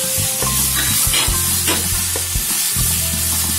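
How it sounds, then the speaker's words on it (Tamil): Vegetables stir-fried in a hot pan for veg noodles with pepper powder and garam masala, giving a close, steady sizzle with repeated scraping stirs throughout. "நல்லா ஃப்ரை பண்ணுங்க."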